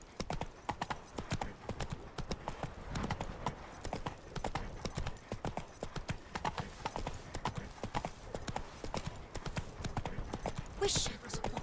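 Steady clip-clop of the horse Roach's hooves trotting in The Witcher 3, an even rhythmic beat of close thuds that keeps going under intermittent talking.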